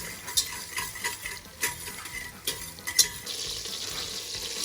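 Butter melting in a pan for a roux, a soft sizzle and light frying crackle with a utensil stirring and scraping against the pan in short irregular strokes, fairly quiet and close.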